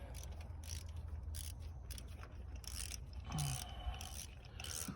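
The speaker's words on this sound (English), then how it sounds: "Take your 3/8 ratchet." A 3/8 ratchet clicks in quick repeated bursts while turning a spark plug on a Toyota Corolla, close and fairly faint, with light mechanical scraping and no talk.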